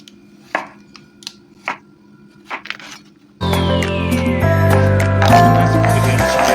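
Knife dicing tomatoes on a cutting board for bruschetta: several sharp, separate taps spaced unevenly in a quiet kitchen, then music starts up and takes over.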